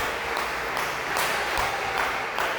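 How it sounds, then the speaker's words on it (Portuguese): A church congregation claps steadily for a few seconds, a dense, even patter of many hands filling the space with no voices over it. "Quem pode dar uma salva de palmas para Jesus com alegria?"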